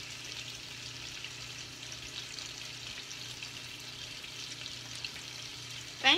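Chicken tenders frying in hot grease give a faint, steady sizzle and crackle throughout, ending in a brief louder clatter, with no voices.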